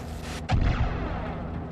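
Missiles exploding in the Far Cry 6 video game, a sudden deep boom that follows a brief rushing whoosh and then trails off into a lingering rumble.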